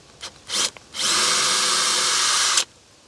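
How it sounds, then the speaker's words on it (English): A power drill boring a hole in a deck board: a couple of short starting whirs, then a steady high-pitched grinding drill sound for about a second and a half, close and clear before stopping abruptly. "And with that, let's drill a hole."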